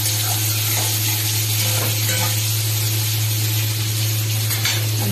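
Soybean chunks fry in a pan with a steady, close sizzle and the occasional faint scrape of stirring, and no one speaks.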